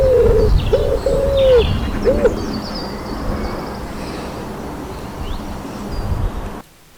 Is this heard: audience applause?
no